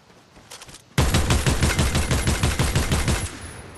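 Rapid automatic gunfire in the video game Fortnite, a loud sustained stream of evenly spaced shots that starts abruptly after a quieter moment and carries on to the end.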